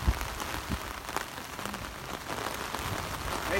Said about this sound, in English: It might be raining and cold